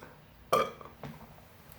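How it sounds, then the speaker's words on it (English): A single loud burp after drinking a Modelo or Bud and Clamato chelada, a tomato, lime and salt beer cocktail, with a smaller follow-up burp shortly after, heard close up with no talking. "these make me burp terribly, so I apologize"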